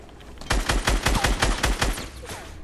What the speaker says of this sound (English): They're really shooting at us.